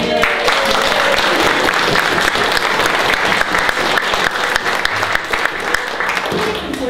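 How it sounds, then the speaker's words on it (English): Applause from a general meeting audience fills the whole stretch, steady and loud, a thick wash of many hands clapping without pause. "general applause for all the people."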